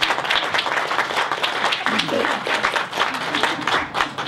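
Scattered audience clapping at a virtual event, close and uneven with individual claps distinct, sustained for several seconds with faint voices mixed in.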